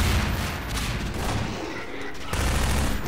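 Gunfire in the video game Half-Life 2 Episode 1 comes as a dense, loud burst of shots and blasts that carries on without a break for the whole stretch.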